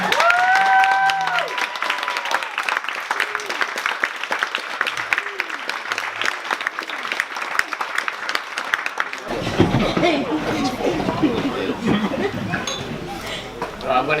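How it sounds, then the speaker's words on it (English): Wedding guests give the newlyweds a long, loud round of applause, steady dense clapping with cheers, and it swells to fuller, heavier clapping partway through as someone speaks over it at the start. "give the biggest, loudest round of applause to Mr. and Mrs. Williams."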